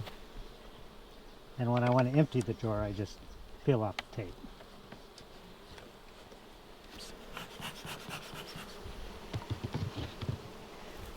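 Honey bees at a hive fitted with a pollen trap and taped drawer hum in a low steady drone, with someone talking close by over the first part before the buzzing continues on its own.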